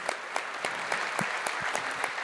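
Steady applause from an audience at an awards ceremony, dense clapping with a few sharper claps standing out, continuous throughout.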